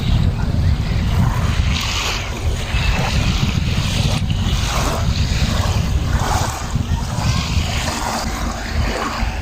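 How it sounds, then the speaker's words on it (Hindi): Waves wash and surge in a continuous roar, with gusty wind rumbling across the microphone and no voices. "बहुत ही खूबसूरत पानी की आवाज़ होती है, बहुत ही रिलैक्सिंग होती है"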